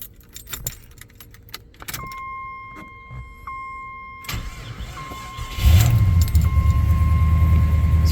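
A 1988 Jeep Grand Wagoneer cranks and starts after a short delay, with keys jangling and faint chimes first, then the engine catching and settling into a loud, steady idle close by.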